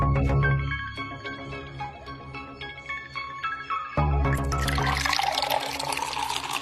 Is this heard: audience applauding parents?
no